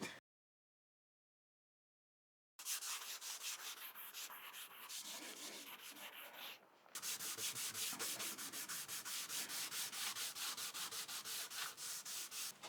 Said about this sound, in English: Scotch-Brite or 4-0 steel wool to actually abrade the surface slightly.